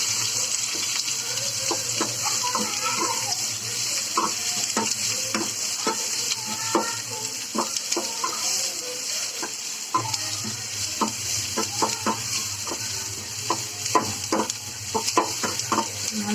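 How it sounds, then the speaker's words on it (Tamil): Sliced onion and curry leaves sauté in a pan for a cluster bean stir-fry, a steady sizzle broken by frequent scraping and clicking strokes of a spoon against the pan. "நல்லா வதக்கிக்கோங்க."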